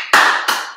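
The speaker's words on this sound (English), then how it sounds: "And three claps." Hand claps from a lively kids' PE class: two sharp, loud, close claps about a third of a second apart, each ringing out briefly, with no talk.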